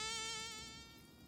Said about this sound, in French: Ça va être ça son ennemi final, un moustique.